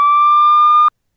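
A synthetic siren tone from the horror film The Purge holds one steady, loud, pure pitch for just under a second, then cuts off abruptly into silence.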